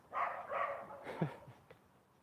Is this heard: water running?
no